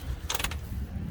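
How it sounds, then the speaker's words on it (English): A brief mechanical clicking burst from a car's engine bay, the starter failing to turn over on a dead battery, then a low steady hum. "There's just dead battery sound."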